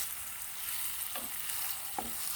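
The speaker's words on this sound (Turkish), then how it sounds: "tahta kaşığım yardımıyla yumurtaları ve soğanları bu şekilde aralayarak" Eggs and onions frying in a pan for a breakfast dish, a steady bright sizzle with two soft scrapes of a wooden spoon pushing the food apart, close and alone without talk.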